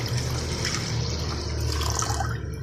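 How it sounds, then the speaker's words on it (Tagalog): Steady rush of water being poured or run into a cooking pot for two glasses of water in a home kitchen, continuous and close with no talking. "2 basong tubig."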